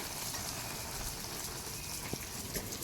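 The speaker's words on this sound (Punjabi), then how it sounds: "ਥੋੜਾ ਜਿਹਾ ਮੀਂਹ ਘਟ ਤਾਂ ਗਿਆ ਬਟ ਹਜੇ ਵੀ ਕੋਈ ਪਤਾ ਨਹੀਂ" Rain falling steadily outdoors as a light shower eases, a constant broad hiss with a couple of faint drip taps near the end, no voices.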